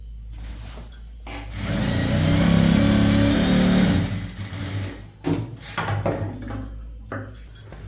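Sewing machine stitching a chudithar top, one steady burst of whirring stitches in the middle, then short starts and stops with clicks and handling of fabric, alone with no talk.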